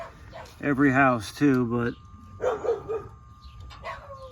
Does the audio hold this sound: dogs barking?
yes